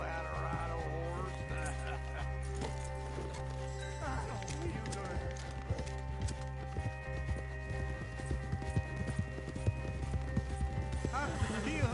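Horses galloping hard out of woods, rhythmic hoof clip-clop mixed with a whinny, under a busy film soundtrack with music and other noise filling the scene.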